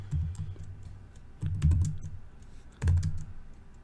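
Command typed on a computer keyboard: three separate clusters of fairly loud, thumpy keystrokes with short pauses between them, close up, with no talking.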